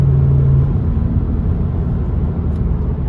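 A 2014 Subaru Impreza WRX with a manual gearbox cruising gently, giving a steady, loud low engine drone and road rumble inside the cabin, with no voices.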